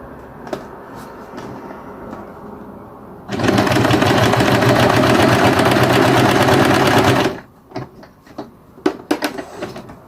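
A sewing machine stitches fabric pieces together for a 3D patchwork pillow, a loud, fast, rapidly pulsing run of about four seconds with quieter handling clicks and rustles before and after.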